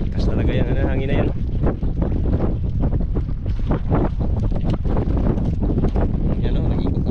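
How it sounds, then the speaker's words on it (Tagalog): Strong wind at sea on a fishing boat, loud continuous buffeting that blasts the microphone, with a brief whine early on and a voice speaking through the gusts. "Lakas talaga yan, hangin na yan."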